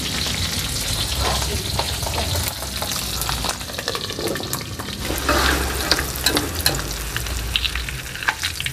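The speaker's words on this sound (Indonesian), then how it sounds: "Terus nyambel ya ini ya, cabai dan bawang putih bawang merah semplungkan." Chili, garlic and shallots fry for sambal in hot oil, a loud, steady crackling sizzle with scattered pops and occasional stirring scrapes, running without talk.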